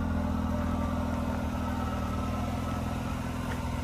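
A Mercedes A35 AMG 4Matic engine running at a steady idle, a loud, close, even rumble holding for a few seconds with no voices over it.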